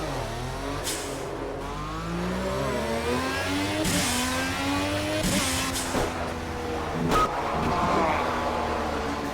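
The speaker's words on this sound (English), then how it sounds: "And that engine sound is incredibly loud." A race car engine in the Project Cars driving game revs loudly and close, climbing through gears with repeated rising pitch sweeps and sharp drops at each shift, continuous over the whole stretch.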